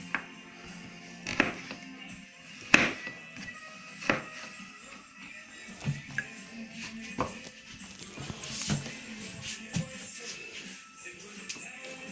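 A knife slices frozen fish in sharp scraping cuts at uneven intervals, fairly close and quiet, with faint shuffling between strokes.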